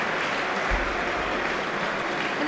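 Spectators at a judo competition in Rome applaud, a steady wash of fairly loud clapping from the crowd throughout, no clear talk.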